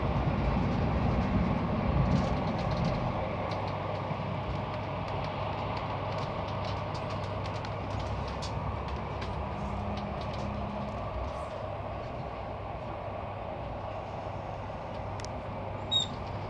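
Train running along a railway through green Norwegian farmland, a steady broad rumble of the carriage continuing throughout at even loudness, with faint occasional clicks over it.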